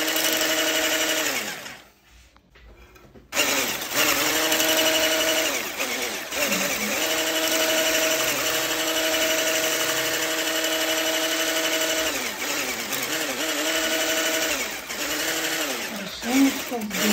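A handheld electric mixer whips cream for homemade ice cream, its motor whining steadily and close by with a brief dropout near the start, then running continuously with slight changes in pitch.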